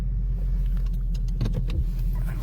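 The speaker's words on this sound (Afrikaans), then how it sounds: "Ek gaan nou die kar maar gou net afsit hierso" A car engine idles steadily at close range with a low continuous rumble while the vehicle is being parked, with a few faint clicks and rattles from inside the cabin and no talking.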